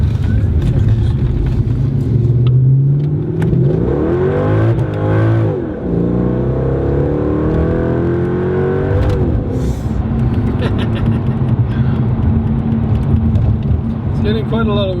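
Ferrari accelerating hard with wheel spin, a loud close engine note rising and sweeping up in pitch over several seconds, then holding a steady drone with talk mixed in.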